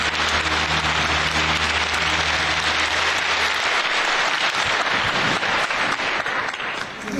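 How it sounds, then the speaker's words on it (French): A school audience at a Euroscola day in Europe applauds a student spokesperson from Belgium, a dense, steady wash of clapping throughout, with a low hum in the first half. "Je vous demande d'applaudir Alexia qui nous vient de Belgique."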